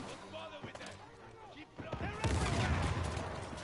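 Bazooka blasts in the online shooter game Uncharted 4, a heavy booming burst of explosive gunfire swelling up midway, with a player talking over the game sounds.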